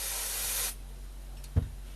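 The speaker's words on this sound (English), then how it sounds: "some of the magic spray" Aerosol spray hisses loudly in one steady burst onto the chassis of an accident-damaged Philips valve radio, then cuts off, followed by a soft knock.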